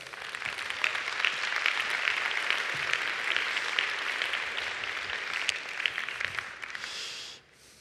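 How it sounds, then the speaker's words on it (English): An audience applauds volunteers at a conference talk: steady, dense applause from a sizeable crowd that holds evenly for several seconds and then quickly dies away. "Give them a big round of applause"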